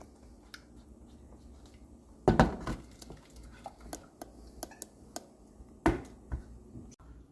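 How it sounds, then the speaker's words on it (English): A utensil stirs scrambled eggs in a pan, giving irregular close clicks and taps with two louder scraping bursts, quiet and alone. "So we're just going to keep going, keep stirring"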